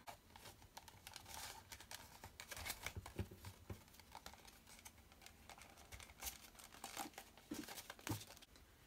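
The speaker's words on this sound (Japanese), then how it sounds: "これを同じように包装紙で包めば OK。" Wrapping paper crinkles as it is folded around a toy ice cream bar from a Japanese kindergarten magazine's vending-machine craft, a close, continuous rustling with sharper crackles and taps throughout.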